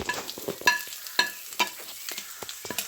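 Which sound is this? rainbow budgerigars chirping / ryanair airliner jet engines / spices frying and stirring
spices frying and stirring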